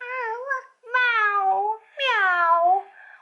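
A young girl imitates a cat's meow, three drawn-out, wavering mews with short pauses between them, close and clear with nothing else behind.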